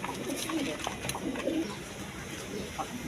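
Pigeons coo softly in low, rounded calls over a constant background hiss, with a few faint wing flutters mixed in.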